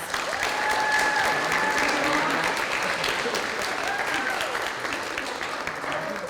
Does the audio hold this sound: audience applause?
yes